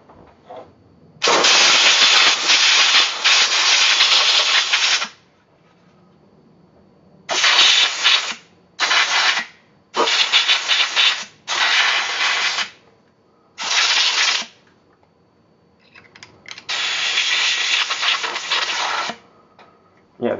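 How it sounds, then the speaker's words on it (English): Compressed air blasts into an Apple IIe keyboard in a series of loud, hissing spurts: one long burst, several short ones, then another long one, with quiet gaps between them. "Maybe I'll just blow some compressed air via the sides."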